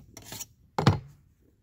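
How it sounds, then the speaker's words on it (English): Two short rasping strokes as a metal file is rubbed along a chainsaw bar to remove burrs, each a brief gritty scrape, close and clear with a pause between them. "just kind of rub this file along it"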